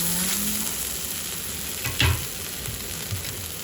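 Spaghetti sauce with parmesan cheese being added to a pan of cooked spaghetti noodles and pork, then stirred: a soft steady sizzle with scraping stir strokes and a brief louder clatter midway, close and quiet.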